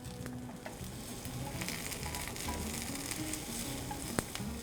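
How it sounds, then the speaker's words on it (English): Mushrooms and spinach sizzle and fry in a pan, a steady close crackling hiss with light stirring and a small clack near the end. "we're gonna cook down our 2 main vegetables, which are mushrooms and spinach"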